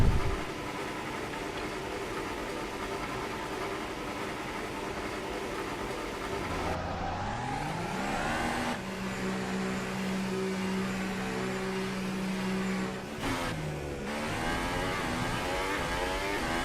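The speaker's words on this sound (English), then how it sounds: "As our engine fires up." F1 car engine firing up in the video game F1 2018 at Baku: a steady mechanical drone that rises in pitch as it starts, then settles into a sustained whine with a brief dropout, heard alone.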